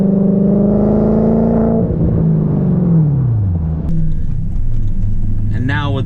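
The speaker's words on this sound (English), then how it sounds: "I have a MagnaFlow exhaust that the guy who owned this before me put on, but he also deleted the mufflers" An Audi S4 V8 with a MagnaFlow exhaust and deleted mufflers sounds close and loud. Its deep burbling tone falls in pitch as the revs drop, then settles into a rumbling idle.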